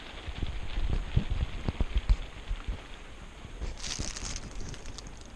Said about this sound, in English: I'm a little happy to see the rain right now. It's always relaxing to hear too.